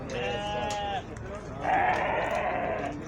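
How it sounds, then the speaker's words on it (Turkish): Sheep, lambs, rams and goats bleat repeatedly at a livestock market in Torbalı, several overlapping wavering calls close by, with a noisy crowd murmuring underneath. "Kuzular var, keçiler var, koçlar var."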